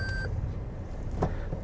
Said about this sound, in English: We are getting a beep there because we do have our lift gate open